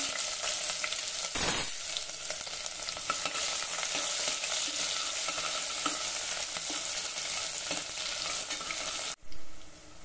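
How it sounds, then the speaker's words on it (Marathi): Chopped onion sizzles in hot oil with spluttered cumin and mustard seeds in a cooker. A steady close frying hiss carries a brief stirring scrape early on, and the sound cuts off abruptly near the end. "कांदा जरा 2 मिनिट परतून घेतला"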